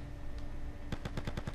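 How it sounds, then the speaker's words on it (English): Gunfire in GTA Vice City Multiplayer: after a quiet stretch of ambient hum, a rapid burst of about five sharp shots rings out, moderately loud and fairly close, with no talking. "I heard a gunshot."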